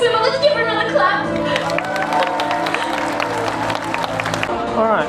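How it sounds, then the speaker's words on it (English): A crowd claps and cheers after a mermaid swimming show at an after-dark zoo event, loud sustained applause with excited chatter and a presenter's voice mixed in throughout. "Let's give her another clap."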